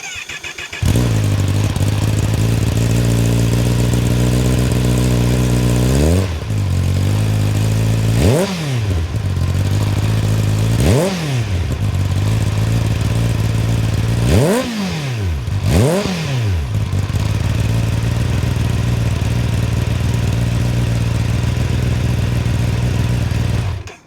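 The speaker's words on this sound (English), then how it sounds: "Let's take a listen to how the 2025 ZX10R's exhaust, stock exhaust, sounds." A 2025 Kawasaki Ninja ZX-10R with its stock exhaust idles loudly with a deep, steady exhaust note, punctuated by several sharp throttle revs that rise and drop back.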